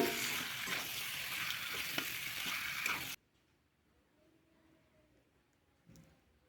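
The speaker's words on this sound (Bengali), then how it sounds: "ভেজে রাখা চিকেনগুলো দিয়ে ভালো করে চিকেনের সঙ্গে মশলাটা কষিয়ে নিতে হবে" Fried chicken is stirred with spices in a pan for a desi chicken curry, a loud close sizzle with stirring for about three seconds before it drops away to near silence.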